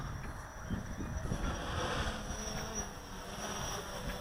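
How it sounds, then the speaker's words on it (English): Steady wind buffets the microphone of a quadcopter flying outdoors, a continuous low rumble with rushing gusts that swell and ease throughout. "Whoa, there's some wind."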